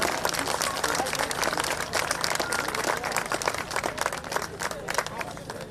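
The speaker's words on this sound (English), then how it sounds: "Let's get a big round of applause for all of our Mountain East Conference track and field" A crowd applauds seniors at a Mountain East Conference outdoor track and field championship, dense sustained clapping and cheering from stands, loud and continuous with a faint murmur of crowd noise underneath.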